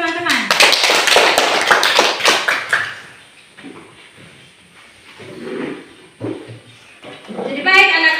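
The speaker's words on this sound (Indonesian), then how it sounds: "Tepuk tangan dulu untuk teman-teman." Classroom children clap their hands for classmates during a lesson, a loud burst of quick clapping for about three seconds, then quieter scattered sounds, with a new round of claps rising at the end.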